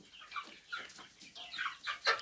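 Chickens on a small poultry farm clucking in short repeated calls, several birds close by, lively and uneven, with no talk over them.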